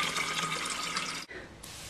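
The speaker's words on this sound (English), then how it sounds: "There goes all the vinegar into the salt." Vinegar pours steadily into salt for a homemade weed killer, a continuous close liquid splashing rush that briefly cuts out near the end and then resumes.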